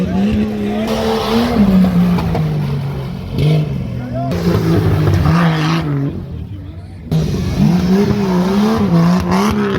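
An off-road race car roars through a dirt course at the Ardeşen off-road races, its engine revving and straining in loud, wavering surges, with crowd noise and chatter mixed in.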